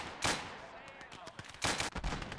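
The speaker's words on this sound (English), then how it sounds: "The mortar's doing its job." Mortar fire in the World War II strategy game Gates of Hell: two heavy, booming blasts about a second and a half apart, each with a rumbling tail, amid quieter battlefield pops.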